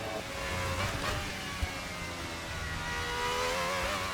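High-revving RSS Formula Hybrid V12 F1 car in Assetto Corsa, a steady, screaming engine note held near 12,000 RPM in top gear with a slight pitch rise toward the end, alone without voices.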